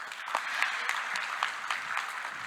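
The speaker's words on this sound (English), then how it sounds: "please give a round of applause for Ms." A conference audience at a corporate sustainability event applauds a speaker. The clapping is fairly quiet and thin, with separate claps standing out in an uneven rhythm.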